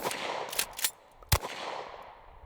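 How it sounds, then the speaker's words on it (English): A shotgun fires less-lethal double ball rounds, with a few sharp percussive cracks spread across a short span, one loud close bang standing out, over faint background noise. "These are double ball rounds. Let's see how old Blue likes this. I got 2 in there. Shoot her right in the face"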